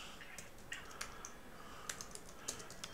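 Quick bursts of key presses on a computer keyboard as a database query is typed, soft irregular clicking close by with short pauses between runs of keys.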